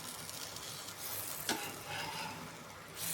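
Small, soft batter cakes cook on an old dosa griddle, making a faint, steady sizzle with one brief scrape or clink near the middle, with no talking.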